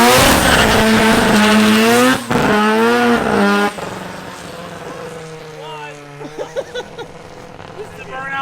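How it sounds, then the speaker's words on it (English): A dragster engine revving hard during a burnout, loud rising and falling roars up close, then dropping to a rougher idle with sharp throttle blips. People shout over it. "This is a burnout bomb."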